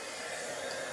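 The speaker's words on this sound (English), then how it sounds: "if you take your heat tool and you just apply, let me get it warm, or just put a little bit of heat onto that sticker" A heat tool blows a steady, hissing stream of hot air onto a sticker, a brief continuous whoosh with no talking.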